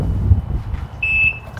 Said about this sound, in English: we got our beep, we got our warning system back up